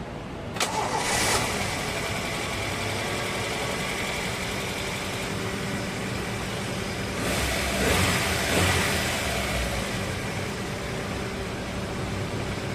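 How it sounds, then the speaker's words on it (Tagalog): A Toyota Corolla engine cranks and catches near the start, then runs steadily at idle with a couple of brief revs, loud and close, no talking, after a timing belt replacement. "At pag okay na, pwede nang start itong makina."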